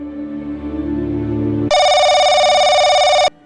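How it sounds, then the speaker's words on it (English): A telephone rings loudly and steadily, one long electronic ring cutting in after a low murmur of background tones, then stopping abruptly. "the shrill ring of the phone pierced the silence"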